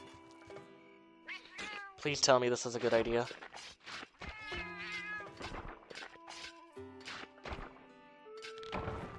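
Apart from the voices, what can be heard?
cat meowing in Monster Hunter video game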